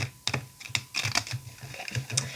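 A Morgan Greer tarot deck with sturdy cardstock is shuffled in quick, crisp clicking bursts, a rapid patter of card edges riffling close by with no voices.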